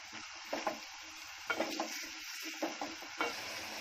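Two large tomatoes tumble into a hot pan for a Konkani egg and fenugreek bhaji, then a spoon scrapes and stirs them in repeated short bursts over a soft, steady sizzle, fairly quiet and close, with no talking.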